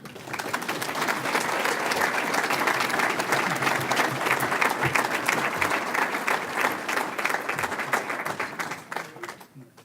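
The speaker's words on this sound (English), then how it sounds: "let's give a round of applause" A crowd gives sustained, dense applause at a university alumni award ceremony honoring an athlete, loud and steady for about ten seconds before easing off at the end.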